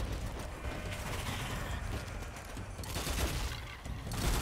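Rapid bursts of gunfire from the player's weapon in the video game Strange Brigade, a dense, steady fusillade of shots running the whole time at close range with no talking.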